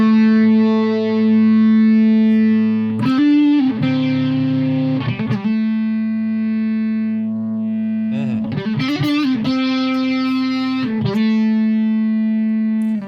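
Sustained electric guitar chords through a Vortex Flanger pedal with a swirling, sweeping modulation effect, played loud and up close in a few strummed bursts separated by held notes.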